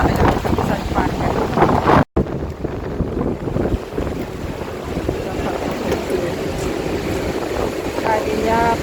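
Strong typhoon wind roaring across the microphone in heavy rain, a loud continuous buffeting rumble with a brief dropout, and someone talking through it.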